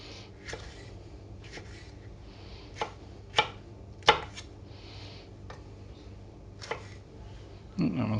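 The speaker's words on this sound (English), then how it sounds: "So all I'm going to do is slice these up" A knife slices small, seedless sweet peppers on a cutting board, giving about a dozen irregular, crisp chops of varying strength, the loudest in the middle, with a soft shuffle of handling at the end.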